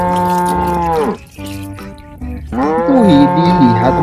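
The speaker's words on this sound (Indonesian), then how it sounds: "yang ini indukan sapi" A mother cow moos loudly twice, each call a long, deep, harmonic low with a short pause between them. The calls sound close and clear.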